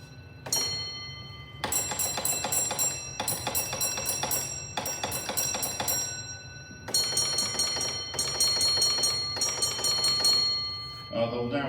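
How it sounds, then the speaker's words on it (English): Signal box bells on a Lancashire and Yorkshire Railway training layout ring in repeated groups of bright metallic strikes, several bells overlapping from different boxes around the room, with faint talk in the background. "There'll now be a cacophony of bells, if that's the right word, all around the layout where all the signal boxes come to work"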